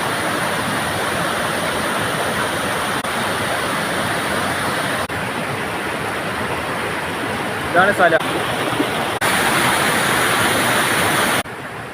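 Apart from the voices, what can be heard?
waterfall in a forest in Kodagu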